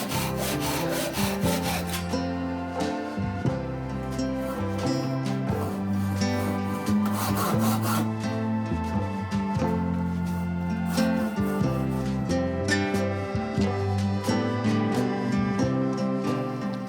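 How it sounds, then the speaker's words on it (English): A hand pole saw makes cross cuts in wood with steady, rhythmic back-and-forth rasping strokes, close and continuous, with no talking. "I'm using my pole saw again for the first cuts. They are cross cuts, so this saw works the best."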